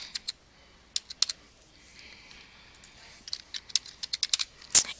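Typing on a computer keyboard while filling in a CMS-1500 medical claim form: scattered key clicks in short bursts with a pause, then a quicker run of taps ending in one louder keystroke, close and with no talk.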